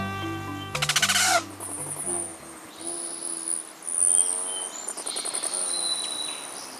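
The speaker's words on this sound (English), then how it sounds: "Here they come. Rufous hummingbirds, ruby throats, and others are migrating north after a hot, dry winter in sunny Mexico or Central America." Rufous and ruby-throated hummingbirds buzz and whir close by, with brief wingbeat bursts and high thin chirps and twitters scattered over a quiet background.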